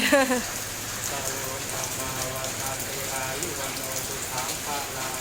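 Heavy rain falls in a dense, steady patter. A voice briefly speaks at the start before the downpour carries on alone.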